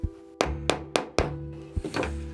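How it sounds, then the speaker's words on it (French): A hammer taps a small wire nail into a wooden beehive frame: four sharp, close knocks in even succession, then a softer double tap, with no speech. "Et après, on remet un petit coup de marteau pour que le petit bout qui reste ne blesse pas les pattes de l'abeille."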